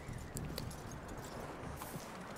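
Horse hooves walk at an unhurried pace in Red Dead Redemption II, soft and fairly close against a faint ambient background, with no talking.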